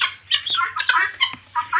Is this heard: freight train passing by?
no